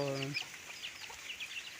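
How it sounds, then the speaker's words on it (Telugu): Chickens pecking feed in the rain cluck and chirp softly over a steady hiss of rain, with a brief low voice at the start. "కోళ్ళు అయితే వర్షానికి తడుచుకుంటూ అడుచుకుంటూ మేతలు మేస్తున్నాయి"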